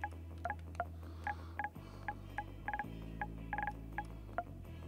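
A telephone in the construction game Bau-Simulator 2022 plays a quiet run of dialing tones, several short beeps in irregular groups over a low steady hum.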